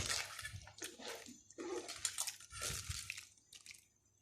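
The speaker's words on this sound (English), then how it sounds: "now we have ice cold water here. So we're gonna pour it here." Ice cold water poured over tapioca pearls in bursts, with splashing and sloshing pours separated by short pauses, close and moderately loud.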